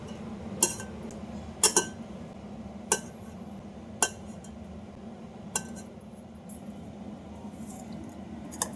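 Cooked rela flower curry is scooped from a pot into a bowl, with about half a dozen sharp metallic clinks of a spoon against the vessels at uneven intervals over a quiet background.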